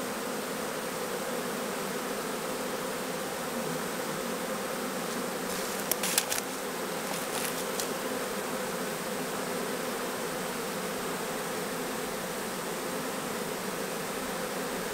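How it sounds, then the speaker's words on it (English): A honeybee swarm fans its wings in a dense, steady buzzing drone that holds unbroken and close throughout, with a few brief clicks partway through. "they're starting to fan those wings"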